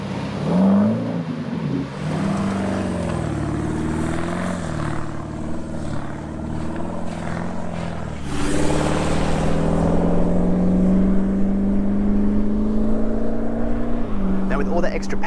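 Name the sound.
2014 Toyota Landcruiser 200 with Manta exhaust driving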